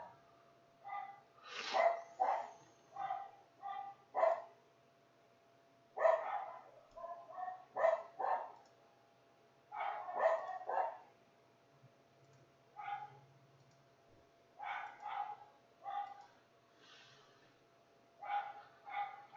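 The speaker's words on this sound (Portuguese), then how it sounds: "os cachorros estão latindo, tá me incomodando" Several dogs bark outside a window in short, irregular bursts of yaps and barks, moderately distant and carrying over a quiet room with a low background hum.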